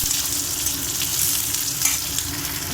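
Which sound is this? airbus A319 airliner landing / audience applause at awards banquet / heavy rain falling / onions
onions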